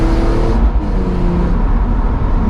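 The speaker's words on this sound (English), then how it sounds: "if I just keep my foot on the accelerator and drop it down, you get that blip, foot down" Interior engine sound of a BMW E46 M3 with SMG gearbox, a continuous throaty drone with a quick rev blip as it downshifts into a lower gear, close and loud.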